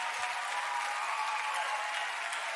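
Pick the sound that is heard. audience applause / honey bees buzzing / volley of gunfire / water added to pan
audience applause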